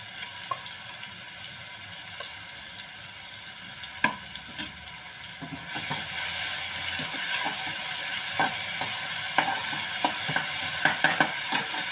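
Onion frying in a pan for masaledar soybean gives a continuous sizzle that grows louder partway through, with scattered clicks and scrapes of stirring on top.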